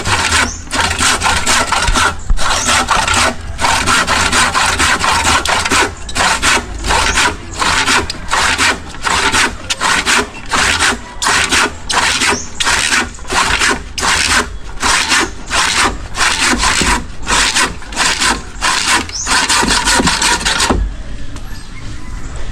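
A hand saw rasps steadily through wood in quick back-and-forth strokes, loud and close, continuing for most of the clip before stopping.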